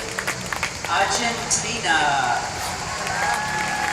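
Crowd applause and cheering at the closing ceremony of an international dragon boat festival in Florence, steady and moderately loud beneath an announcer's amplified voice calling out team names over a PA.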